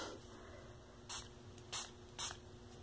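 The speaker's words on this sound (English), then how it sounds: "let's just spray it." A spray bottle mists water onto a bead toy in three short, quiet hissing bursts spaced about half a second apart, over a low steady background hum.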